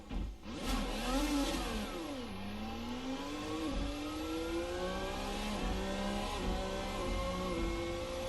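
A Formula Americas open-wheel race car engine in a racing sim screams through repeated upshifts, pitch climbing, dropping at each gear change and climbing again in a steady, fairly quiet drone with no talk.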